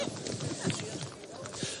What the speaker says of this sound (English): Horses are just arriving down at the start beside us here